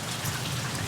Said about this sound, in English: but again, rain